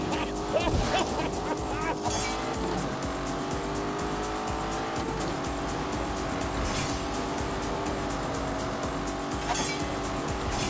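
Lamborghini Urus in The Grand Tour Game driven hard, its engine roaring steadily throughout with tire squeal and skidding layered in, loud and continuous with no pauses.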